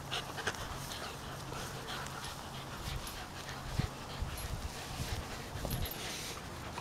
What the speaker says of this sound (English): Who's a bunch of cute puppies?